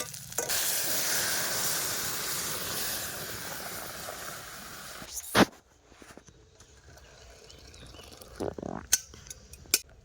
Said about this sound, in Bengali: শুকনো লঙ্কা পেঁয়াজ কুচি আর আদা থেতো আর পাঁচফোড়ন দিয়ে দিয়েছি